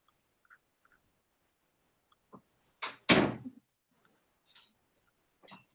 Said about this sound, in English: I'm going to close the room and then open the door for my cat to come in